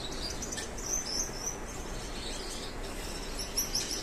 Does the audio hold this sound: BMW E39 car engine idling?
no